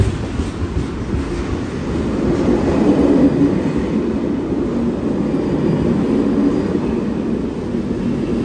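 M4 passenger train arriving at Gent-Sint-Pieters station, heard from inside a carriage: a steady low rumble of wheels and running gear, moderately loud and continuous, with a faint squeal as it slows.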